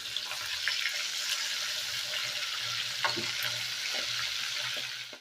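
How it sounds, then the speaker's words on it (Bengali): Hilsa fish from the Padma frying in oil in a pan, a steady close sizzle and crackle with faint clinks of utensils, continuous and fairly soft throughout. "তো এই মাছগুলো আমি ভেজে নেব।"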